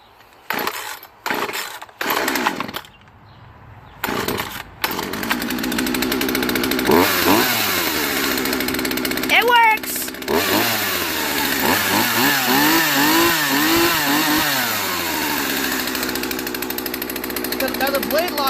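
A chainsaw is pulled several times in choppy bursts before catching, then runs loud and close, revving up and down repeatedly with sweeping pitch changes, while someone talks at times.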